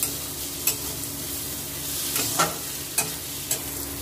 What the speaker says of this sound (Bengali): আমি লাল লাল করে ভেজে নিয়েছি